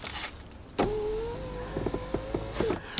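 A power window motor in a 2003 Ford Fusion door whirs close by after a click, a rising whine lasting under two seconds with small mechanical clicks and knocks around it, quiet with no talking.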